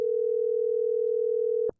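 Telephone tone on an unanswered call, one steady, loud, unbroken beep lasting nearly two seconds before cutting off abruptly, heard alone.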